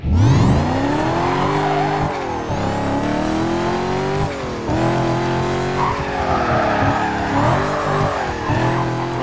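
A Corvette in the racing game Need for Speed Carbon roars continuously, its engine climbing and dropping through repeated gear changes, with tire squeal and skidding mixed in, loud and close, with no talking.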